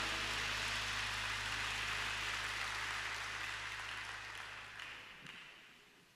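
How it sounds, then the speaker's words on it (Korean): A church congregation gives a dense, sustained round of applause that fills the room at first, then gradually thins and fades away toward the end. "우리 사랑하는 주님 앞에 우리 감사의 박수 올려드립시다"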